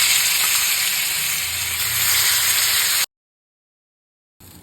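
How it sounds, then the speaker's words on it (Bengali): Paneer frying in white oil with a spoonful of ghee makes a dense, steady hiss of sizzling fat close up for about three seconds, then goes silent before a brief return. "পনির ভাজা কমপ্লিট।"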